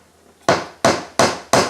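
Four sharp, loud hammer blows drive a 3/4 inch nail into the wooden parts of a treehouse kit, evenly spaced about a third of a second apart after a quiet start.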